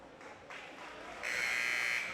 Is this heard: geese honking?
no